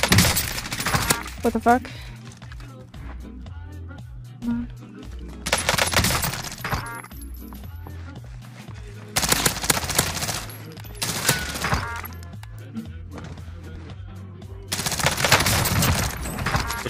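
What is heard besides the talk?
pistol gunfire in a video game fight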